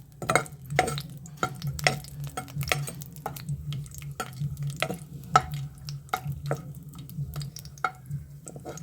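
Four cashew nuts frying in oil in a pan for carrot pulihora, heard as a steady low sizzle with repeated sharp clicks and scrapes of stirring, close and moderately loud, with no voices.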